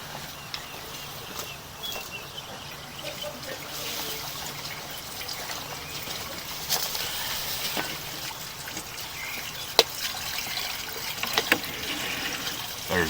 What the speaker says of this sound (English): I'm going to run some more water,